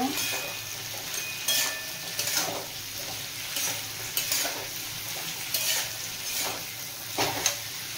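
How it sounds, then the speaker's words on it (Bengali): Long beans and potato being stirred in a frying pan with salt, a steady sizzle under repeated scraping stirs, close and moderately loud, with no talking. "নুন দিয়ে দিলাম পরিমাণ মতো, আবারও ভালোভাবে মিশিয়ে নেব।"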